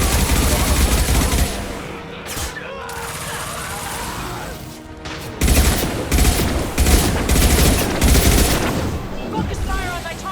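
Sustained squad firefight in Mass Effect Legendary Edition, with dense rapid gunfire and bursts of shots that dip briefly midway and then surge again. Voices are partly heard beneath the shooting.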